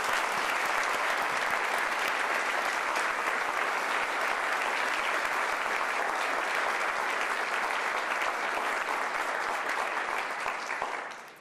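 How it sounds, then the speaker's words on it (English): An audience at an awards ceremony applauds continuously, with dense, steady clapping from a large crowd that holds at an even level for several seconds before tapering off at the end. "Please, another round of applause."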